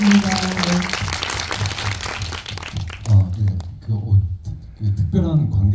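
Applause from a film screening audience at a Korean independent film Q&A event rises in a dense wash for about three seconds, then fades as a voice starts talking over the last scattered claps.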